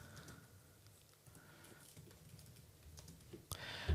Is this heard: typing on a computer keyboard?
yes